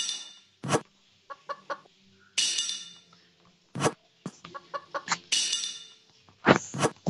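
Chickens cluck in a bout of repeated, close bursts in the video game Evil Nun 2, with sharp clucks and squawks spread unevenly across the moment and no talking over them.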